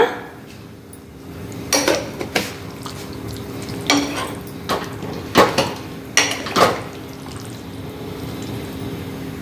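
Vandikaran kuzhambu curry stirred in a pot, a ladle scraping and clinking against the metal in scattered sharp knocks over a quiet bubbling background, close and intermittent.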